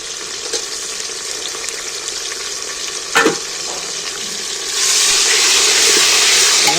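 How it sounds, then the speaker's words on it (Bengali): Chopped tomatoes hit fried onions in a pan for a mutton curry, giving a loud, steady sizzle with a short clatter midway and a stronger, hissier surge of frying toward the end. "পেঁয়াজগুলো ভাজা হয়ে গেছে এইবার আমি ছোটো ছোটো করে কেটে রাখা টমেটোগুলো তুলে দিচ্ছি"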